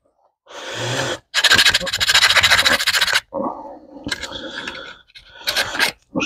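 A hand file rasps against a metal part from a model train car being converted, in several strong back-and-forth strokes with short pauses between them, close and loud.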